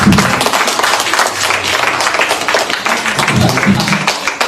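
A church congregation claps hands in praise during a Filipino worship service, a steady dense applause-like patter filling the room, loud and continuous.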